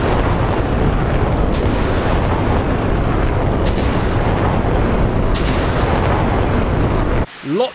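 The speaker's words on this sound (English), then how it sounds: "Lots and lots of Patriot Pack 3 missiles going out." Patriot PAC-3 missiles launch in a war simulation video game, a loud, continuous roaring rumble of repeated blasts and bursts layered over one another, ending abruptly in a brief quieter tail.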